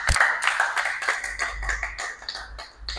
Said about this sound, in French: vous pouvez applaudir pour vous-même